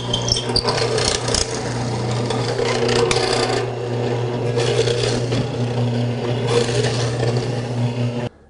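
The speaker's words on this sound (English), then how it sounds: "Naturally, the important thing is how well the 719T cuts mortises" A Powermatic 719T hollow chisel mortiser cutting a mortise in wood, a loud steady motor hum with rasping, grinding chisel noise that swells and eases throughout, stopping abruptly at the end.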